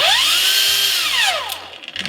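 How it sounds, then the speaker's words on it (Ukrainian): A GRAND cordless angle grinder spins up with its soft start, the motor whine rising and then winding back down over about two seconds. It sounds loud and close, with no talking. "Дійсно, як ви почули, болгарка має плавний пуск"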